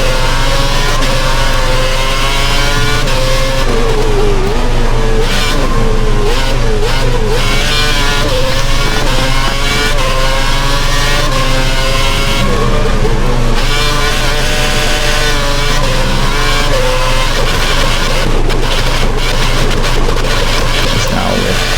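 Formula 1 car engines from the F1 2011 racing game, a loud, continuous high-pitched wail with rising and falling revs as cars overtake on the Spain circuit. No talk is heard.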